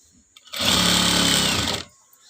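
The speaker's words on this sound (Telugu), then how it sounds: "మనం ఇక్కడ నేను డబల్ స్టిచ్ అయితే వేస్తాను" A sewing machine runs a double stitch with a normal presser foot, a close, steady whirring buzz lasting just over a second, starting and stopping sharply with quiet room sound on either side.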